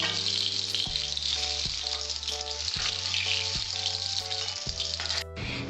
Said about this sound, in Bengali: এরকম ভাবে আর কটা মাছ আছে একইভাবে ভেজে নেব